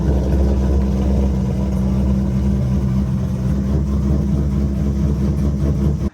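A 420 hp 2005 C6 Corvette engine runs close by as the car is driven out of a garage, giving a loud, steady low rumble with slight revving that holds throughout before cutting off sharply at the end.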